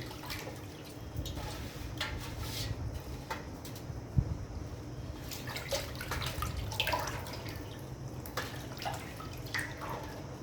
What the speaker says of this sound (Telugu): దీన్ని ఒక నీళ్ళల్లో బాగా ఒక 7 తూర్లు కడగాలి.